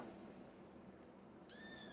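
A single kitten meow near the end, drawn-out and tonal, over a quiet room background with faint rustling.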